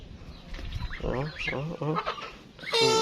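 Loud honking calls of a goose repeat in quick succession, harsh and close, ending in a sharp nasal cry.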